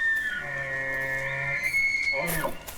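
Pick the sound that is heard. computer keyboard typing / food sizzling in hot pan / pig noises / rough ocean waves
pig noises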